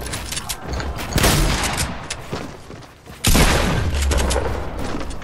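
Heavy video game gunfire rattles in dense bursts at close range, easing off briefly before a loud fresh volley erupts and keeps pounding to the end.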